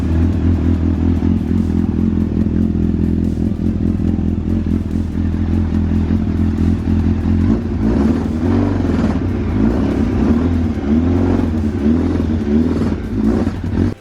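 A Yamaha FZ1 motorcycle, brought back to running with rebuilt carburetors, idles loud and close with a steady throb, then gets blipped through several quick revs in the second half.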